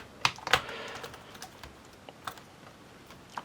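A Lenovo ThinkPad T460s laptop keyboard is pressed back into place during servicing, giving a few sharp plastic clicks and taps, two close together near the start and fainter ones after.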